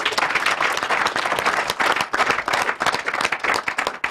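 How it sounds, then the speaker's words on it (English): Audience at a Nigerian Institute of Public Relations event clapping, a dense, lively round of applause that stays loud and steady throughout. "Make una clap for him."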